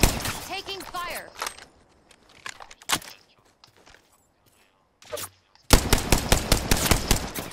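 Gunfire in the battle game Apex Legends breaks out in sharp bursts: a single crack, a few scattered shots, then a loud, sustained stretch of rapid automatic fire near the end. Voices talk early in the clip.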